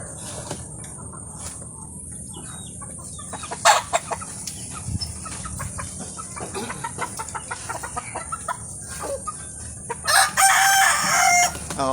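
Chickens and pullet hens cluck in a scattered, irregular run, with a louder crowing burst near the end, set against steady farmyard background noise; no one talks.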